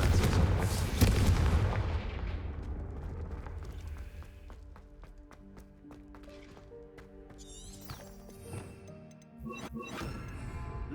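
A loud Confringo fire-blast spell in Hogwarts Legacy erupts in booming explosions, then fades into clattering debris and scattered magical crackles before another burst near the end.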